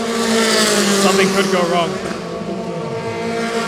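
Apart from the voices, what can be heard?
Formula 4 race cars at full throttle on track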